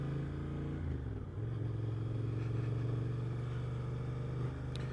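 A 2025 Suzuki GSX-8R motorcycle rides along a country lane, its steady engine drone briefly dipping as the revs change, then holding a smooth, close hum.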